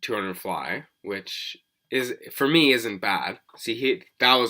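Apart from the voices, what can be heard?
No everyday noises stand out.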